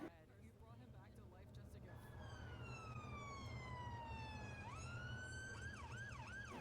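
A tabletop role-playing game stream plays a wailing ambulance siren rising and falling, shifting into a faster yelp pattern, sounding a short distance away over low background noise.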